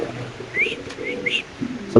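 Pigeons at a Bengali pigeon seller's, including a male Mundiya pigeon, give a few soft coos and chirps close by over low background murmur.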